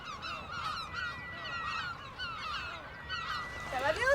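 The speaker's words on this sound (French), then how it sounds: "les goélands ont niché, bien à l'abri. Du coup, il y a beaucoup de goélands." Many gulls calling over a nesting colony on a Brittany island, a dense chorus of overlapping honking cries near and far that continues throughout, with a louder call close by at the end.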